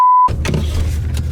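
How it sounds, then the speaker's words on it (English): A steady, loud electronic beep tone sounds alone for a quarter second, then cuts off into engine rumble and noise from a vehicle. "You gonna beep at me?"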